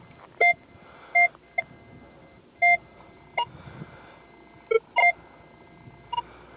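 A Minelab X-Terra 705 metal detector swept over a knife gives short electronic beeps, some doubled, repeating irregularly over faint background noise.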